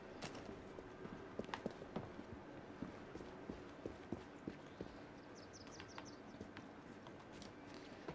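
Horse hooves clip-clopping in Assassin's Creed Syndicate, a steady run of light clopping steps at moderate distance over low ambient street noise, with faint birdsong briefly audible.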